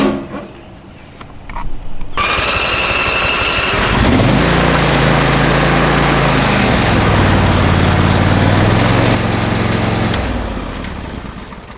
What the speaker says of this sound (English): after you've started up your tractor and it runs fine